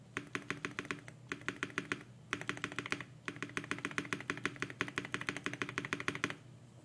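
Typing on a Wind Studio Sin65 mechanical keyboard with lubed stabilizers, rapid close clacking keystrokes in quick bursts separated by short pauses, crisp and even, with no voices.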